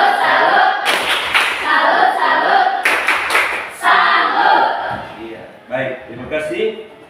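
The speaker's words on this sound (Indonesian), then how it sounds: "Tepuk salut" A school class claps out a rhythmic salute clap for a classmate, bursts of many hands in unison with pauses between, mixed with voices calling along.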